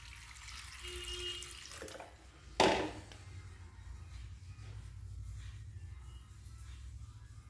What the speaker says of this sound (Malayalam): ആവശ്യമായ വെള്ളം ഒഴിച്ച് കൊടുക്കാം